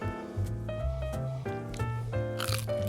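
Crunchy smoked chicken wings are bitten into, a few crisp crunches close up, with the sharpest crunch near the end over a faint tonal background.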